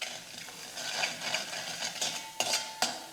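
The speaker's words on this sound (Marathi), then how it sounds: "आता हे वाटण मंद आचेवर परतून घ्यायचं आहे" A ground spice paste (vatan) with cumin, asafoetida and curry leaves is stirred in a pan on low flame, with a soft sizzle under repeated scraping strokes and two sharp metal clinks of a spoon.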